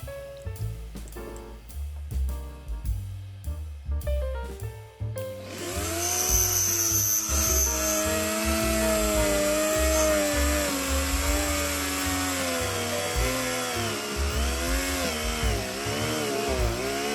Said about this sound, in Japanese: こちらも引っかかってルーターが止まってしまいました。